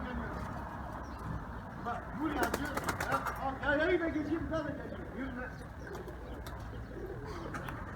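Soft pigeon cooing drifts in the background under steady murmuring noise, with a few brief clicks and rustles.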